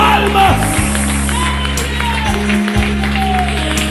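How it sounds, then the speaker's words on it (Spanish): A worship congregation claps and cheers along with loud music, with shouts and whoops rising over steady applause throughout. "dale palmas"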